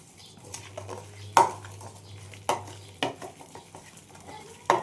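Schezwan chutney, tomato sauce and green chutney are stirred together in a bowl with a spoon: soft scraping punctuated by a few sharp clinks of metal against the bowl, close and alone without talk.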